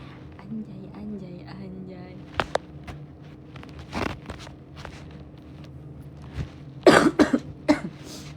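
A few short, sharp coughs burst out near the end, following a stretch of quiet background murmur and faint shuffling.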